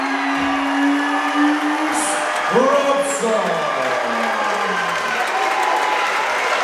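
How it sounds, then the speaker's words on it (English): A crowd at a Newcastle fight night applauds and cheers the winner in the red corner, a steady loud wash of clapping with whoops rising over it while an announcer's amplified voice speaks through the noise. "Cheering for your winner and new victory 4-man champion in the red corner, Reece."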